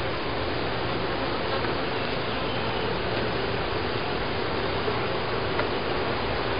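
Honeybees buzz steadily inside an open hive during a spring inspection, a dense, continuous drone from many insects close by with no talk over it.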